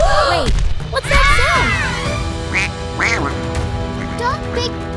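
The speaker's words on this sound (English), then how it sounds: "Oh no, it's a giant duck." A cartoon giant duck gives loud, close quacks, several upward-swooping honks in a row, over a bed of animated background music and sound effects, with a character's voice speaking between the calls.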